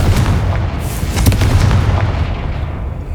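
A Confringo explosion spell cast in Hogwarts Legacy: a sustained, rumbling low boom with a sharper crack near the middle that fades slowly, heard alone without voices.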